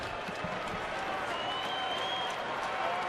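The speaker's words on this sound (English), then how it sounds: "Well, the crowd's gotten into it now." A baseball stadium crowd applauds and cheers during a July 2012 San Diego at Arizona game, a steady, dense wash of clapping and crowd noise that holds evenly throughout with no clear break.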